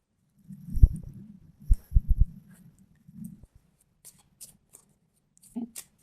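Tarot cards being shuffled by hand, a few soft riffling bursts and light taps close by, quiet and intermittent with gaps between.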